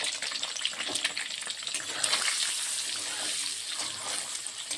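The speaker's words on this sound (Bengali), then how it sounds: "ভালো করে ওটা ভেজে নিতে লাগবে।" Steady hissing sizzle of egg frying with turmeric in a pan, fairly faint and continuous with no voices.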